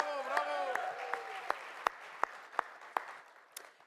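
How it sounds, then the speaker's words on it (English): Applause at a national leadership luncheon rises as a voice finishes speaking. A soft bed of clapping runs under a few sharp, close individual claps, and it fades toward the end. "Let's give him one more round of applause."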